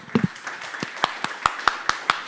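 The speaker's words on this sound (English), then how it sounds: "please join me in one more round of applause" Sparse, scattered claps from an audience at a Bitcoin conference stage, a dozen or so distinct hand claps in an uneven rhythm, fairly close and modest in volume, tapering off like the tail end of a round of applause.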